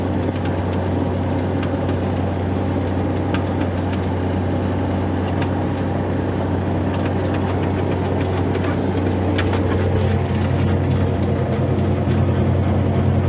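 A Kuhmann potato digger works a potato field, its engine a loud, continuous low drone layered with steady mechanical rattling and clatter that holds unbroken throughout.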